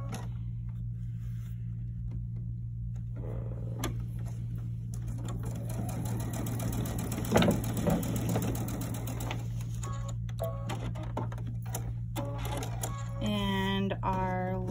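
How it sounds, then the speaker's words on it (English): A sewing machine stitches quilt pieces for a Kimberbell Love Notes project, running in a steady continuous hum with rapid needle rhythm throughout, loud and close, with a brief pause near the end. "we will take these two and sew them onto here"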